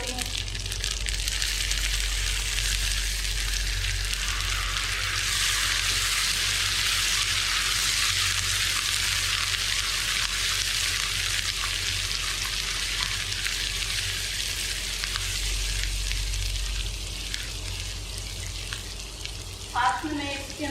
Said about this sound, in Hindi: इसको तब तक फ्राई करना है जब तक प्याजों का कलर ना चेंज हो जाए